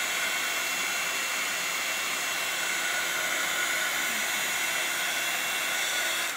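A heat tool blows a steady, loud airflow over a paper card to dry it, a continuous hissing whoosh held at close range for several seconds, with no talking.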